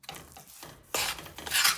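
A spoon scrapes and stirs powdered sugar into a rava and besan mixture in a pan, with soft rubbing strokes followed by louder, gritty scraping bursts near the end.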